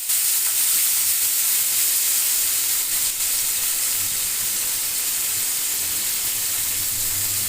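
Chopped onion and tomato fry in a pan of oil for a chicken and potato curry, making a continuous close sizzle with faint stirring scrapes and no talking.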